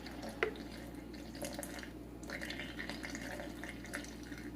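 Water, 120 grams of it, is poured into sourdough starter flour, making a close, steady trickle and splash with a few drips, and no voices.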